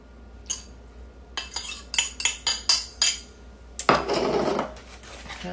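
A fork scrapes and taps against a bowl, mixing melted unsalted butter into a lemon crust, in a run of short rhythmic strokes followed by a longer steady rubbing scrape, close and moderately loud.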